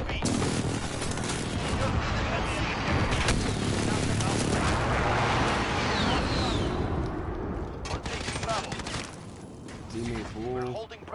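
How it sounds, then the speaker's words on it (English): Precision airstrike explosions and gunfire rumble and crackle continuously through a Call of Duty Modern Warfare multiplayer match, dense booms and rattling shots with game voices speaking over parts of it. "Allied precision airstrike in."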